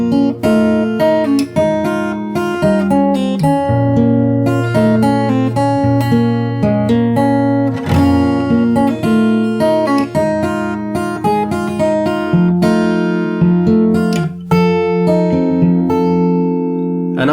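Fingerstyle acoustic guitar plays one full round of a song's chorus: a steady, close melody of plucked notes over bass and chords, ringing continuously with no voice.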